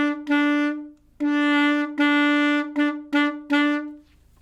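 A saxophone plays a simple beginner exercise from Standard of Excellence page 13, a series of sustained low notes separated by short breaths in a steady counted rhythm, close and alone with no talking.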